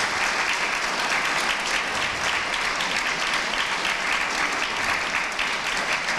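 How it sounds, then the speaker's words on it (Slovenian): Loud, sustained applause from an audience at a public forum event, honoring the Cerkno volunteer fire brigade; thick continuous clapping with no pauses or speech on top. "prosim en velik aplavz za nekno"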